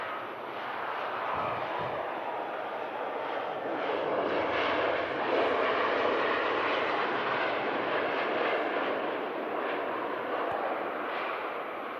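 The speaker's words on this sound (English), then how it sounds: "Silky smooth landing from the Royal Jordanian" Royal Jordanian airliner landing at Manchester Airport, a broad steady jet roar with rumbling wind noise that holds at a constant loud level throughout, no voices.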